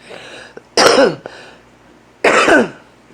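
Two sharp, close coughs about a second and a half apart, each with a short throaty burst, between quiet pauses and small breaths.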